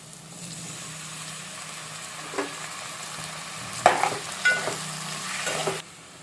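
Tomatoes and chili powder fry in a pan with a soft, steady sizzle, broken by a few clinks and scrapes of a spoon stirring near the end.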